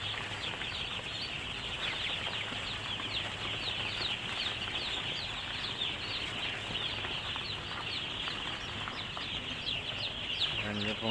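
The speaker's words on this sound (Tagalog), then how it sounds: "Yan yung pong sisiw namin." A dense, steady chorus of baby chicks peeping indoors in a farmhouse warmed by heaters, their high chirps overlapping continuously with faint low background sounds beneath.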